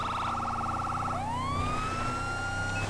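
A police siren in the video game GTA 5 with the LSPDFR mod shifts from a rapid yelping pattern into a rising wail, loud and close over a low engine hum.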